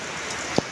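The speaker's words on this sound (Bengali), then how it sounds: "খুব জোরে বৃষ্টি হচ্ছে ঝমঝম করে" Heavy rain pours onto a rooftop during a thunderstorm, a steady dense hiss of drops with one brief sharper tap near the end.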